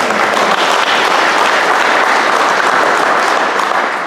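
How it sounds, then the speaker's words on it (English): An audience at a Dairyland annual meeting gives a round of applause for Jane, loud, dense clapping sustained evenly throughout. "Round of applause for Jane."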